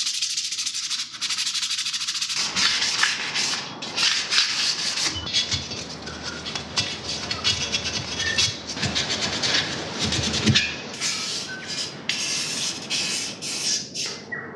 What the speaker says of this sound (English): Using very fine sandpaper for that, 2000.